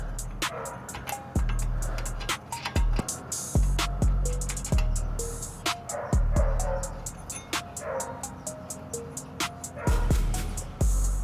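A dog barks repeatedly nearby in a garage-like space where a barn-find S13 coupe is being worked on, sharp yips coming in irregular bursts over background noise.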